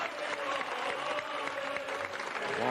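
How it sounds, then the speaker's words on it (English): Audience applause from a crowd at a stage design forum, steady, dense clapping held at moderate distance for a few seconds. "Applause from the public."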